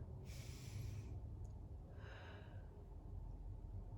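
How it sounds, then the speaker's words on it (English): Two slow, deep breaths drawn in through the nose, soft and airy against a low steady hum, with no talking. "we are gonna breathe nice and deep."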